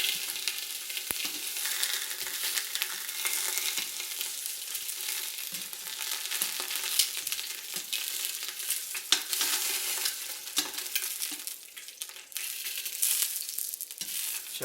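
Beer brats fry in an Instant Pot with a dense, continuous crackling sizzle that holds steady throughout, with small pops and a brief dip near the end.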